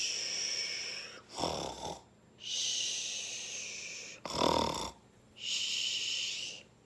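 A voice imitating a snoring wolf, sleeping heavily after a big meal: three long, loud, wheezy snoring breaths, each broken by a short snorting inhale, close and alone.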